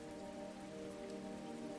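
Steady rain falls on surfaces, a soft continuous patter with no breaks, faint and even throughout with no voices.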